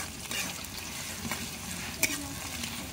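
Sliced onion and green chilies fry in hot oil in a wok, giving a soft, steady sizzle broken by a few light stirring scrapes.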